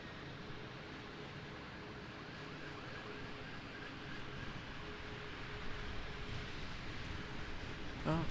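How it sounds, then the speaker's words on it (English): Emergency vehicle sirens wail faintly in the distance under steady broadband noise near Raleigh-Durham airport on a stormy day, holding a thin sustained tone throughout. "I don't know if you guys can hear the sirens or not."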